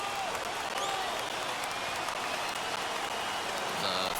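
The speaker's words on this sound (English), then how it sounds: "Gotta love a late rally, and listen to this crowd now." A baseball stadium crowd in the video game MLB The Show 21 roars and cheers during a late rally, a steady, wide wash of noise that fills the whole clip at a moderate level.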